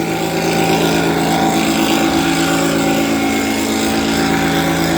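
Steady engine drone powering a sawmill carriage rig, a constant loud hum with a low rumble and tonal harmonics running without a break, no voices over it.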